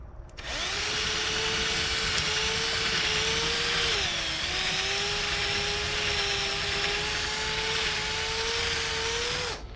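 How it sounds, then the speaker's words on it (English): A power drill grinds steadily through rivet heads on the quarter glass trim of an Audi S5, a loud, continuous whine that dips briefly in pitch mid-way and then holds until it cuts off, with no talk over it. "it just drills that head off"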